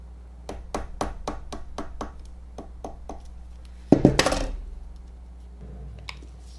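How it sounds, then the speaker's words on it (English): A series of sharp, evenly spaced taps rings out, then a louder clattering knock, with a few softer knocks trailing off near the end. "I found a bigger nail, and I'm going to hammer it in"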